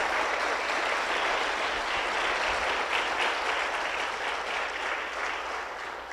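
A church congregation claps for Jesus during a sermon, steady dense applause filling the room for several seconds, loud and continuous, easing slightly toward the end.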